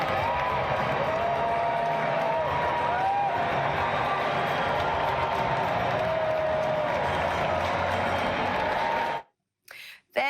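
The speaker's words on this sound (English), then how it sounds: "here is the president arriving at the men's final and being greeted with loud cheers" A large crowd at the men's final in New York City cheers the arriving president, a continuous roar with whistles and whoops and voices mixed in, cutting out abruptly near the end.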